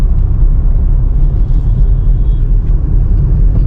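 A car being driven in third and fourth gear gives a steady, loud, low engine rumble from inside the cabin, continuous and unbroken throughout with no talk.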